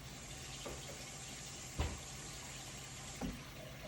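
Cold water running into a cup in a kitchen while cornstarch slurry is prepared for sesame chicken, a faint steady trickle with a few soft clunks and splashes, no talking.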